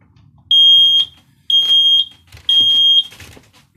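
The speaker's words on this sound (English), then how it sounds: "Then test your alarm." An X-Sense SD12 smoke alarm being tested indoors, giving three loud, piercing beep groups in steady succession at close range, each a sustained high tone broken into short pulses.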